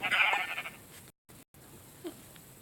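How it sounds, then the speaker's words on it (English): A sheep in a video game bleats once, moderately loud and clear, followed by faint game ambience with a brief dropout and a small later blip. "Let me kill this sheep."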